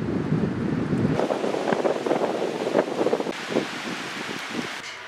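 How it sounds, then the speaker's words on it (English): Wind roars and rustles steadily against the microphone, with gusty low rumbles that ease off slightly toward the end. "on this rather windy day"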